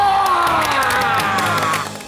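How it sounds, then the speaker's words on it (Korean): A crowd celebrating at a Buddhist TV channel event bursts into dense applause and cheering, with shouts and whoops layered over steady clapping throughout. "박수!"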